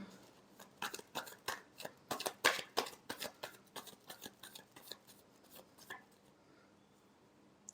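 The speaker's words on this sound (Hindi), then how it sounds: "last shuffle" Tarot cards are shuffled in a quick run of crisp riffling flicks and taps that build and then trail off into a few softer final clicks, close and clear, with no talking.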